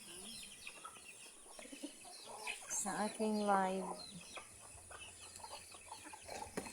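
Chickens cluck and a rooster-like call rises in the middle, with people talking nearby over a steady outdoor background.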